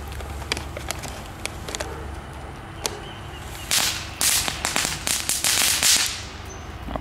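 Crackling firework balls go off outdoors, starting with scattered faint pops and building to a dense, loud burst of sharp crackles near the end.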